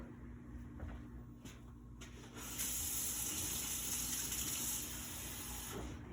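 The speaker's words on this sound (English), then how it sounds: "I'm going to put a little water in these to make them a little watered down" Water pours steadily into a cup for a few seconds, a gentle hissing gush that rises partway through, with no one speaking.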